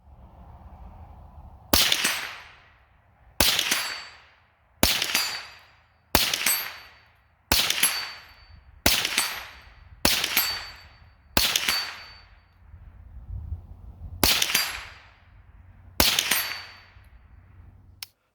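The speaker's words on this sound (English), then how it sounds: "let's use that semi-auto Browning Buckmark, but we're going to use it with the Stalker Lite shooting sticks" Ten shots from a semi-automatic Browning Buck Mark pistol rested on Stalker Lite compact shooting sticks, each a loud, sharp crack with a ringing tail, fired at a steady pace of roughly one to two seconds apart with a short pause near the end.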